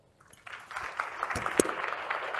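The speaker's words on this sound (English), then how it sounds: "So give an applause." Conference audience applause starting faintly and building into scattered, fairly quiet clapping over a couple of seconds.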